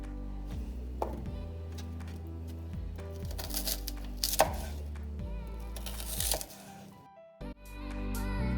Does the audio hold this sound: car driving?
no